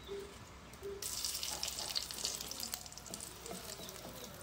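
Bay leaves hitting hot mustard oil in a wok set off a sudden, steady sizzle that jumps in at about one second and keeps frying loudly, with faint clinks from a stirring utensil and no talk.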